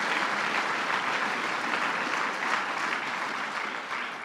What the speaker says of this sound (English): Let's give him a big round of applause, Howard Zemsky